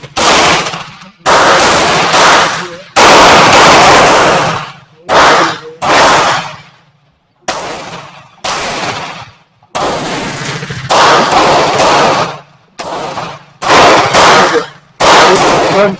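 Werndl 1867/77 rifle fired repeatedly, a loud blasting series of shots with short gaps between them, close to the microphone, with a faint voice at moments.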